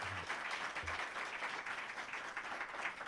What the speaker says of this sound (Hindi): हम सभी मिलकर एक बार जोरदार तालियों से उनका स्वागत करते हैं.